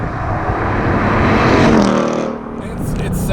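A 710 hp Roush Stage 3 2019 Mustang roars loudly and steadily, the engine note swelling to a peak then dropping off before picking back up, heard close with no talk over it.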